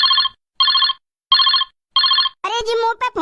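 A telephone rings in four evenly spaced electronic trills, clear and close, followed by a voice speaking.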